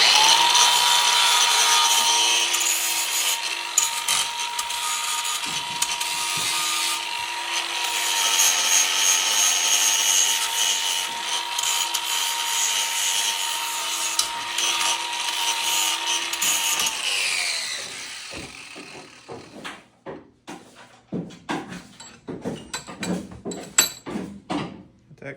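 An angle grinder cleaning up a cut tab on a demolition derby car steering column, with a loud, sustained whirring grind for most of the clip, then a run of quick, irregular scrapes and knocks as it winds down.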